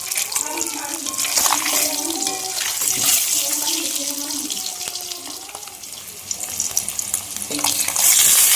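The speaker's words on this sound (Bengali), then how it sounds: "ডিমগুলো হালকা হালকা ভেজে নিলে কী হয়, বেশ ভালো লাগে খেতে।" Eggs fry in a pan with salt and turmeric, giving a bright, crackling sizzle with clinks of a utensil. Running tap water and a voice are also heard, and the sizzle swells again near the end.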